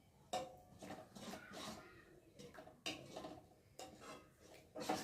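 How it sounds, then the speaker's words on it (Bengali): Cooked lentils stirred in a pot, a series of clinking scrapes and knocks of utensil against metal repeating every second or so, close and fairly quiet, no talk. "একটু ভালো করে ঘেটে দিই।"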